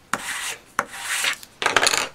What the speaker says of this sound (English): just burnish this down into the adhesive